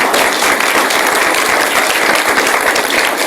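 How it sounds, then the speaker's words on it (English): A seated audience at a law center panel conversation breaks into steady, dense applause, loud and close, sustained without pause and with no talk over it. "Let's give them a round of applause."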